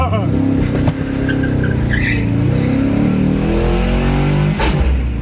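A racing car engine revs loudly during Capri cup practice as the second-gear synchro struggles, a steady droning roar with shifting pitch and a sharp crunch near the end.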